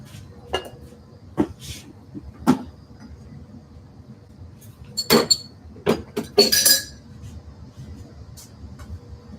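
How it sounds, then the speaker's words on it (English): Dishes being washed and put away in a home kitchen while baking a pie: scattered glass and ceramic clinks, a cupboard knock and a cluster of rattling clatter, with quiet stretches between. "usually just use this time to do the amount of dishes that I have"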